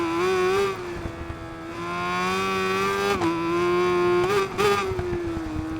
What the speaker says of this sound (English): I do love the engine sound of 4-cylinder.